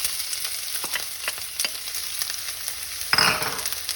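Onions and green chilies drop into hot oil with a sudden burst of sizzling frying near the end, after a stretch of quiet kitchen clatter and light stirring.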